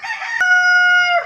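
A rooster crows once, close and loud, a sustained bright call with a sharp break partway through.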